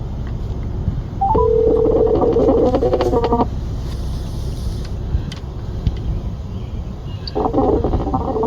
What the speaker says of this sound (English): try to get Judy back on the phone